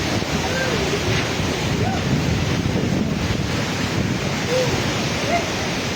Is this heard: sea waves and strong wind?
yes